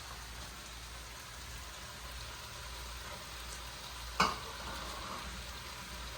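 Sliced mushrooms and onions sizzle quietly in a pan as they cook for a stroganoff, a soft, constant crackling hiss with a single sharp clatter partway through.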